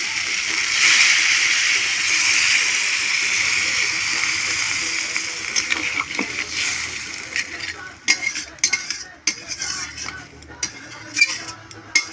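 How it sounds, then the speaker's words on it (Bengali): Water pours into a hot pan of spicy crab curry with a loud, steady sizzle and bubbling hiss that settles after a few seconds, followed by intermittent clinks and stirring sounds. "জলটা দিয়ে দিচ্ছি"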